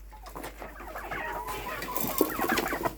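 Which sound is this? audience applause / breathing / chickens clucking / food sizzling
chickens clucking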